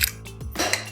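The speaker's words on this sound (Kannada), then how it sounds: "ಈಗ ನಾನಿಲ್ಲಿ ಕುಕ್ಕರ್ ಮುಚ್ಚಳನ ಕ್ಲೋಸ್ ಮಾಡಿ" A pressure cooker lid being closed on a pot of millet kara pongal, giving a couple of short metallic clanks and scrapes close by, with no talking.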